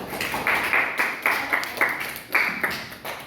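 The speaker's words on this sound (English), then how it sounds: "give applause for Fitri" A classroom of students claps for a classmate, a few bursts of sharp, close handclaps in an uneven rhythm, fairly loud and with no talking over them.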